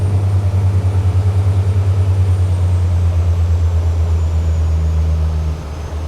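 A Fairline Targa 47 GT motor yacht engine drones loudly with a steady pulsing throb, then its pitch drops and eases off near the end as the boat slows off the plane.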